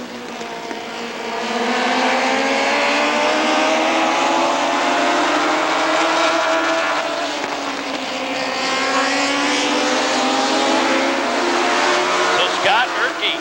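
Race cars roar around Rockford Speedway after the green flag, a loud sustained engine drone rising and falling as the field accelerates together, heard from nearby.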